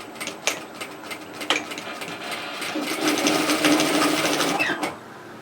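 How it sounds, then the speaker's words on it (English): Sewing machine stitching a seam on a lined fabric tote bag, a steady close mechanical whirring hum that runs in short bursts at first, then settles into a longer continuous run before stopping. "come to your machine and stitch, remembering to back tack."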